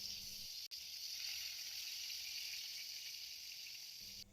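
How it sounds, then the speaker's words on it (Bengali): Pieces of pointed gourd, coated in salt and turmeric, sizzle in hot oil in a pan, a steady close bright frying hiss that holds for a few seconds with a brief break near the start. "পটলটা আমি ভাজা করে নেব"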